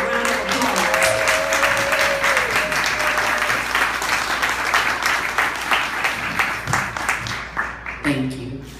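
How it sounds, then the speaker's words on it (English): A round of audience applause greets Monica Lusk as she comes up to speak, steady and dense for about eight seconds before fading into the start of her talking. "will you please acknowledge her with a round of applause?"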